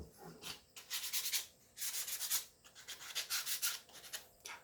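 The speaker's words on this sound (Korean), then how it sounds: "모서리도 전체적으로 이렇게 사포질을 해주시면 좋아요" Sandpaper rasps against wood edges in rhythmic bursts of quick back-and-forth strokes, close up, with short pauses between passes.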